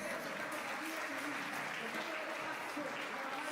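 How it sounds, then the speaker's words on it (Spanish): A church congregation claps together in a sustained, even wash of applause, heard faint and somewhat distant throughout with no clear break. "Denle un aplauso al Señor."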